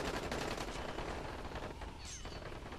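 Rapid enemy gunfire from the game Dying Light rattles in a steady, fairly distant burst, continuous and unaccompanied by speech.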